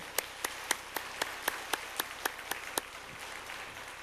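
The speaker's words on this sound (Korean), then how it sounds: "그래 다시 한번 뜨거운 박수로 감사하십시다" A handful of people clap during a church Sunday service, sparse and separate claps at a steady beat, about a dozen distinct hits, fairly faint in a quiet room.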